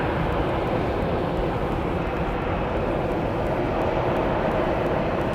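A Southwest Airlines airliner in Lone Star 1 livery at Dallas Love Field gives a loud, continuous jet engine roar that holds steady and close for the whole stretch.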